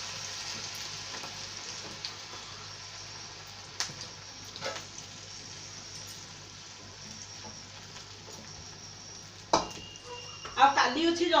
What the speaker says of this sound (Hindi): तेल गरम हो गलानी तो मु सब पोटल दे दउची